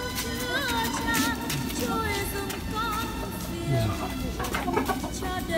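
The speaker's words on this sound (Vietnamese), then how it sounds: "Đàn gà đông tảo rất là hùng dũng" Dong Tao chickens cluck and chatter in a busy flock, with birdlike calls scattered over constant outdoor background noise and a voice talking.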